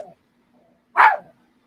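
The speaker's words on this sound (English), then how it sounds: "She's barking at my shadow behind me." A dog indoors gives one sharp, fairly loud bark at close range. Near-silence surrounds it, broken only by a faint brief sound at the very start.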